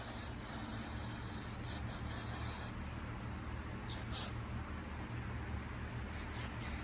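Carburetor cleaner sprayed from an aerosol can onto the outside of a carburetor, a steady close hiss running through most of the stretch with a few brief louder bursts.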